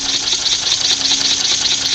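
A small Weeble air engine with no flywheel runs slowly on low air pressure. It makes a loud, continuous hiss with a faint steady tone and a light rapid rattle underneath, and nobody speaks.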